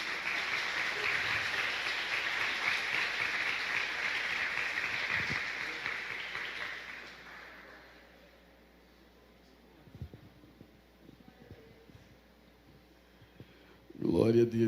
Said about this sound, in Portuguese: aplaudindo ao Senhor Jesus.